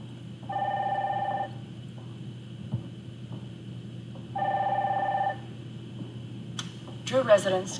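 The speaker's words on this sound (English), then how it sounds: "And she's got a phone call." A telephone rings in the Nancy Drew: The Silent Spy video game, two long electronic rings separated by a pause over a low room hum, followed by brief speech.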